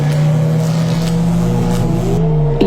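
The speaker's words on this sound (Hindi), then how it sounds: "सुमित जल्दी से गाड़ी स्टार्ट करता है और वहां से निकलता है" A car engine runs loud and close in a steady drone that shifts pitch slightly as the vehicle pulls away, with no voices over it.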